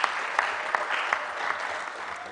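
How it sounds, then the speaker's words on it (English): An audience claps together at a university-hosted UN Day concert, brisk continuous applause from a crowd heard at some distance for a couple of seconds. "can you please clap for this?"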